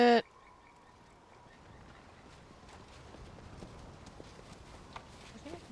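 Horse hooves clip-clop in steady, faint rhythm in the fantasy role-playing game Pathfinder: Wrath of the Righteous, following a brief loud interface sound at the start and continuing quietly with soft ambient noise.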